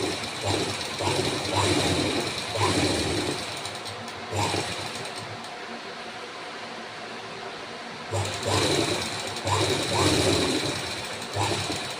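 A sewing machine stitching slowly around the neckline of a boat neck blouse, running in steady bursts with brief pauses partway through, close and moderately loud with a continuous mechanical whir.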